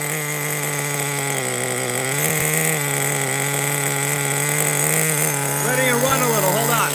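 A nitro Razor XT RC car engine idles steadily with a loud, high buzzing drone that needs carburetor tuning, holding a constant pitch close to the microphone while people talk over it.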